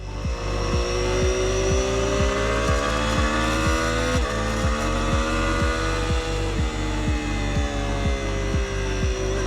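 A motorcycle's exhaust note while riding: a steady, loud, low-pitched engine throb with evenly spaced firing pulses, the pitch shifting slightly as the revs change, with no talking.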